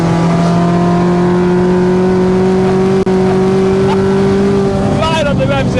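A modified Mk2 Volkswagen Golf GTI engine revs hard and climbs in pitch as it accelerates into an uphill right-hand bend, loud and close, with a brief dropout midway and a higher whine near the end.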